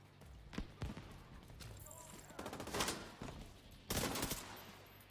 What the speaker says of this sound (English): Oh, these are fire bullets.